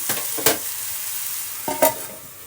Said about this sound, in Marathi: याला झाकून मीडियम फ्लेमवरती आपल्याला शिजवायचं आहे